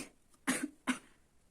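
Two sharp coughs close together, loud and near, with quiet around them.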